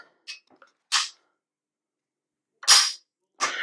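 Napolyon Arms QX5 shotgun being dry-fired, close sharp trigger and action clicks: a couple of small snaps, then three crisp louder metallic clacks spaced apart by silence.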